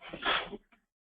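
A single close sneeze bursts out sharply, followed by a brief faint breath.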